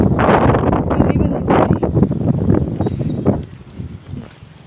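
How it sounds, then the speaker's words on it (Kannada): A flock of sheep with lambs shuffles past nearby in a village, many hooves patter on the ground under gusting wind noise, then the sound fades off. "ಫ್ರೆಂಡ್ಸ್, ಕುರಿಗಳು ಬಂದಿದ್ದಾವೆ ನೋಡಿ."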